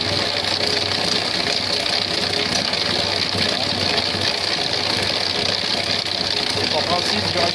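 Engine of a homemade hybrid machine running steadily after reassembly of its mechanics, a loud continuous idling rumble with a knocking, pump-like churn throughout, close by with no speech.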